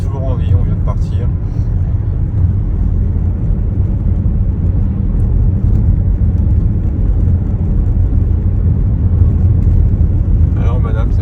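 A car driving along Route 66 gives a loud, steady low rumble of engine and road noise that lasts throughout, with voices talking over it.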